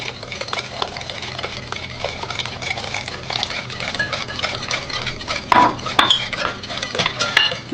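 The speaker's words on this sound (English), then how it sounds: "keep mixing it. And then you add the sugar" Apple tart batter being mixed with sugar and milk, a utensil scraping and clinking steadily against a bowl in a continuous, busy rhythm, close and fairly loud, with a few sharper clinks near the end and no talking.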